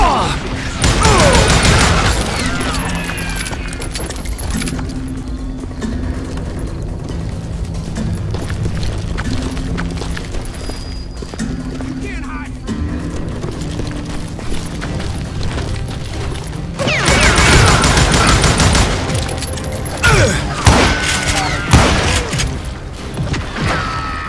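A loud shootout in a western-themed video game, with dense rapid gunfire, booms and crashes running continuously under dramatic music, with brief shouted voices.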